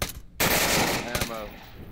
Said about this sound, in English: Somebody's still shooting on, right behind us.